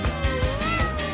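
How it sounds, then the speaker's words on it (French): A cat gives a single loud, close meow with a drawn-out rising and falling tone, heard alone. "Vous avez un chat!"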